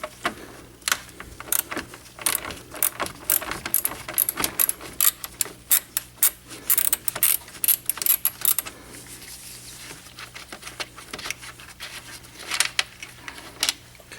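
Ratchet working a 10mm bolt loose on a 2005 Toyota Corolla during radiator replacement, giving rapid metallic clicking bursts that start and stop in uneven runs, close and fairly loud, ending in quieter scattered clicks.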